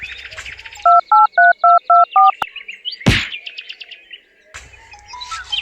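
Phone tones sounding again and again: a loud run of six evenly spaced electronic beeps, a sharp burst, then more chirpy tones after a short gap, close and dominant with no voices.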